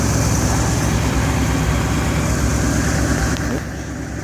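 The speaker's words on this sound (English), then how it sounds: "Listen to that 302 engine." A 1971 Ford F100 Explorer with its original 302 V8 idles shortly after a cold start, a loud, steady, even engine rumble close by that runs throughout with only a slight drop in level at the end.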